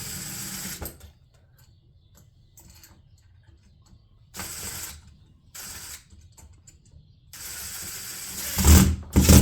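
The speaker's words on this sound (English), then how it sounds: "And then I'm going to take and screw these in." A power drill drives screws while a Schlage FE595 keypad lever handle is installed on a door, giving several separate whirring bursts of a second or so each with quiet gaps between them, ending in a louder final run.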